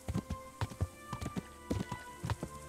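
Horse hooves clop in a quick, uneven rhythm while a rider travels in Kingdom Come: Deliverance, the hoofbeats arriving in loose clusters over a faint steady hum.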